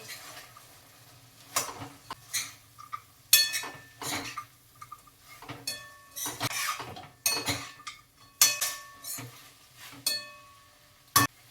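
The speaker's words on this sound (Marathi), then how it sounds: "आपण फ्राय करून घेतलेले फ्लावर घालून घेऊया. मिक्स करूया." Fried cauliflower for Gobi Manchurian is tossed and mixed in a pan, with a spoon clinking and scraping against the metal in irregular, clattering strokes. There is no talk.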